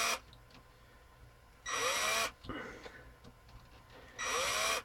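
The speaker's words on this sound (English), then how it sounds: "So just basically drill your holes out." A power drill slowly bores holes on a tabletop for a plug wire project, two loud whirring bursts of about half a second each, separated by quieter handling noise and rustling.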